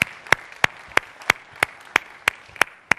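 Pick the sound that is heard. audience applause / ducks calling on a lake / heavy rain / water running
audience applause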